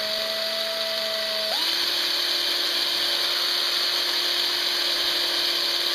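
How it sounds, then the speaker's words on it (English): A power drill runs in reverse, whirring continuously at close range, its pitch stepping up partway through and then holding steady. "So now with the drill in reverse still, just fine tweaking."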